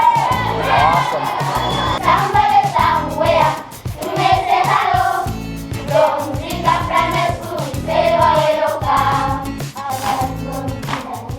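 A big gathering of people with children, loud and sustained: overlapping shouts, cheers and whoops from many voices, briefly dipping before swelling again.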